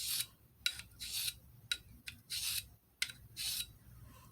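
A knife edge being drawn across a super fine Diamond DMT DuoSharp sharpening stone, heard as repeated close, sharp scraping strokes in an uneven rhythm, about eight in all, with no talking.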